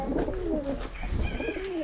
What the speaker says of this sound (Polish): Patrzcie, jakie fajne gołębie.